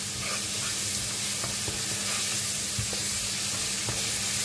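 Onions fry in hot oil for sambal, a steady dense sizzle and crackle with faint stirring, close and continuous throughout.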